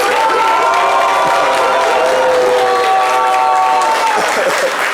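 Loud audience applause and cheering for a young girl named Bernadette on a live Ivorian variety show, a dense, sustained roar of clapping with shouts and whoops throughout.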